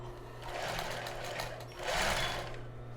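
Sewing machine running steadily as it stitches a folded seam on a child's bra, a continuous close mechanical whir with a slight pause and surge partway through, no talking.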